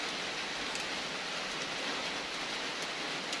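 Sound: rain falling

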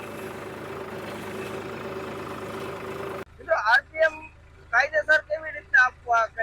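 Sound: tractor engine running after being started

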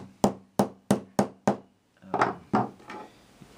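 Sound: light hammer tapping metal frets

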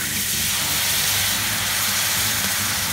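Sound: fish stock poured into hot flour roux, sizzling

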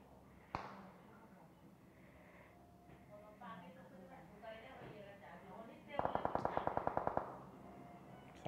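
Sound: gunfire in the video game PUBG

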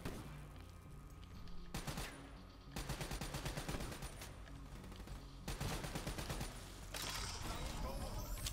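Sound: light machine gun (LMG) firing in Call of Duty Black Ops 3 video game

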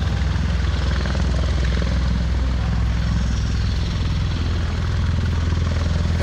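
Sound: tiltrotor aircraft engines at Miramar Airshow

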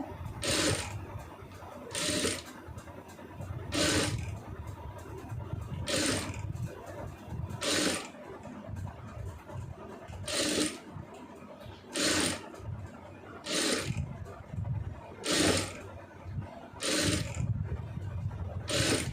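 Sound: sewing machine stitching a blouse sleeve

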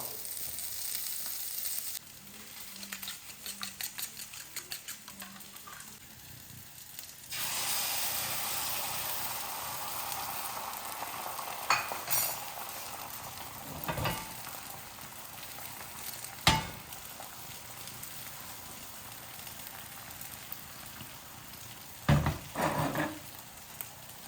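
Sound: egg frying

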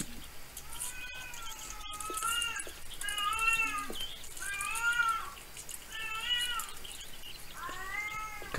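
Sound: cat meowing in the video game ERIE

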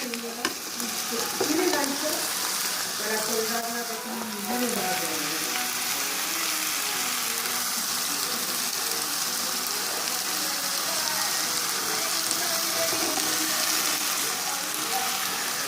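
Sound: kaynana dili pastries frying with onions in pan

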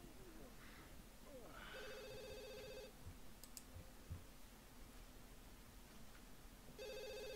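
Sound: telephone ringing in video game The Sims 2

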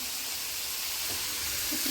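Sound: onions frying in a pan

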